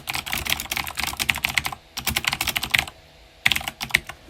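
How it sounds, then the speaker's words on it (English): Bursts of quick, close keystrokes as text is typed on a computer keyboard, broken by two short pauses, with crisp, loud clicks and no talking. "I can go into the text and start typing what I want."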